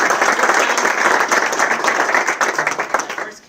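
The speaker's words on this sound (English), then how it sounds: "Let's give a round of applause for Dr. Roy." A roomful of people at a press conference on urban school funding claps in sustained, dense applause for several seconds, fading slightly toward the end.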